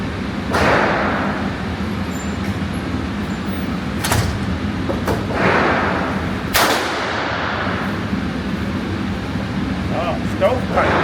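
Sig Sauer P211 GTO competition pistol firing 115-grain rounds at a range: a few sharp, loud shots spaced seconds apart over steady background noise, with voices nearby.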